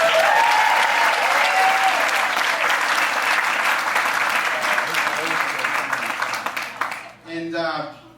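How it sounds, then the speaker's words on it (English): Wedding guests at a clubhouse venue giving a round of applause to the hosts, sustained crowd clapping with some cheers that fades out near the end before a voice resumes speaking. "So let's give them a round of applause."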